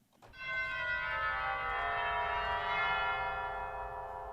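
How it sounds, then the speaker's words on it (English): A single tubular bell tone from the Royal Albert Hall organ's tubular bells stop, in a sample library, is struck once, its rich metallic tone ringing and sustaining steadily with a slow fade. "And the organ also has a tubular bells sound."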